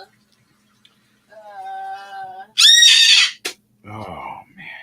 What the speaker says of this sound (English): That sounded like a scream.